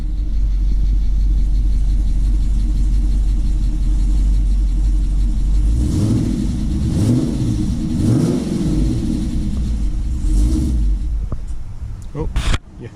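A 2006 Chrysler 300 SRT8 V8 fitted with a new camshaft whose lobe separation angle differs from stock: a loud, steady close rumble, with two throttle blips rising and falling midway before settling back to idle.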